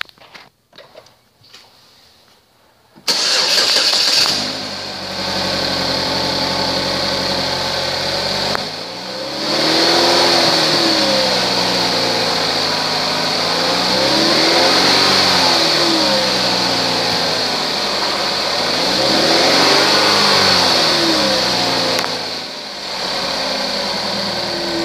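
A 2012 Chevrolet Equinox LTZ with a loose axle shaft is started up close and left out of gear, the engine catching after a few seconds of quiet, then idling loudly and revving up and down in three smooth swells.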